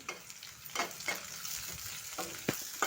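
Vegetables and whole spices with green chilies sizzle in a pan for veg pulao, a close crackling fry punctuated by several stirring scrapes and bursts of spatter, with no voices.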